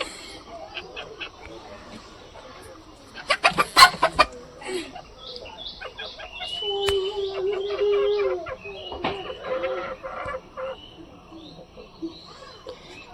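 A chicken clucks close by in short bursts, with other birds chirping around it and a little quiet background activity.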